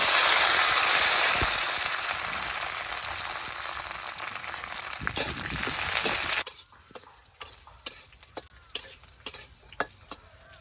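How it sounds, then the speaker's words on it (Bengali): Garlic frying in oil gives a loud, dense sizzle that slowly fades, then cuts off abruptly and leaves scattered sharp taps and clicks. "আমার রসুন ভাজা হয়ে গেছে"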